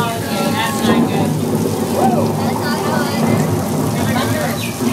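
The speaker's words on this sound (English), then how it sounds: "That rain is pouring down." Heavy rain pours down steadily during a thunderstorm on a trail near a studio, a dense, loud wash of falling water with a low rumble underneath, continuous throughout.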